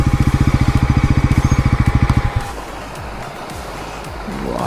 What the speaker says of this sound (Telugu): నీటిలోంచి పోనివ్వాలి బండి.